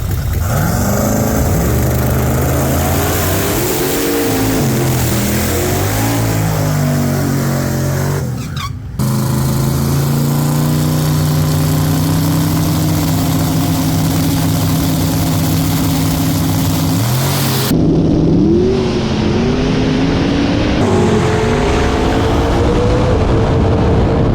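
Race cars running in a street-race final on a rough surface, loud engines droning and revving steadily throughout, with a brief dip midway and a shift in engine tone near the end.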